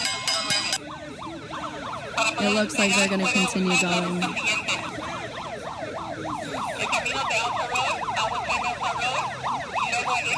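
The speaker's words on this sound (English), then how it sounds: "So we have an ambulance coming towards us" An ambulance siren wails in repeated rising and falling sweeps, loud and close at a street protest, with someone speaking briefly over a steady horn-like tone early on before the siren carries on alone.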